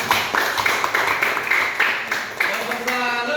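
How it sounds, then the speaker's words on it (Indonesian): Scattered hand clapping from a classroom of students, uneven and overlapping, heard beneath children's voices and chatter. "Yo, tepuk tangan untuk kita semua."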